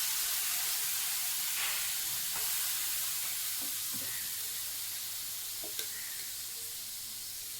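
Dosa batter of rice and coconut sizzles steadily on a hot pan, a bright continuous frying hiss with faint crackles throughout and no voices.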